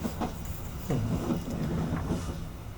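The Probowangi passenger train runs on rails in Indonesia with a continuous close rumble and rolling rattle, plus periodic clacks of wheels over rail joints and a breezy background.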